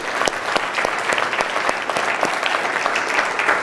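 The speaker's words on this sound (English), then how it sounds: "Just give him a big round of applause." An audience gives a guest speaker a round of applause, dense and close, with individual claps cutting through a steady roar throughout.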